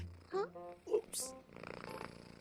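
A person imitates a cat's purr with a low, buzzy, rattling drone that runs for about a second, after brief voiced sounds and people talking close by.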